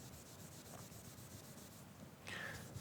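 A bare hand polishes an urushi lacquer pen with raden and nanako-nuri decoration, a faint, soft continuous rubbing that grows a little louder near the end.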